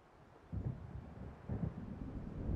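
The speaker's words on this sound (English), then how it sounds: "It seems there's a storm coming." Low rumbling thunder from an approaching storm over open water in Alan Wake, rolling in deep swells that build and fade several times, with wind-like noise underneath and no voices.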